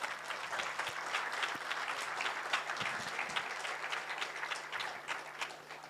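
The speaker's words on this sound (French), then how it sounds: "vous pouvez les applaudir" Applause from an audience for a post-production team at a live broadcast event, dense and steady clapping filling the room throughout, fairly distant with no voices over it.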